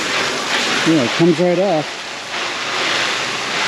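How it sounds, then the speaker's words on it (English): Water spraying onto a Kodiak canvas truck-bed tent mounted on a pickup, a steady hiss of spray on fabric running under a brief exchange between people talking. "you should spray it down with water to season it"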